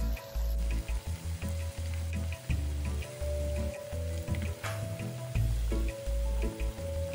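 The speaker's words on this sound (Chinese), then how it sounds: "再一小撮，一小撮抓入低火油炸。" Battered nian gao and sweet potato strips deep-frying in oil over low heat, dropped in small handfuls; a steady close sizzle with soft bubbling and light crackle throughout, no talking.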